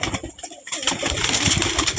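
A black pigeon coos in soft, low, repeated throaty notes close by, alongside faint rustling.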